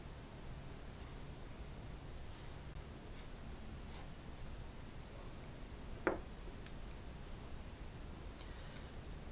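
A math problem is written out by hand as a faint, intermittent scratching of strokes on paper, with a few soft ticks and one sharper tap over a steady background hiss.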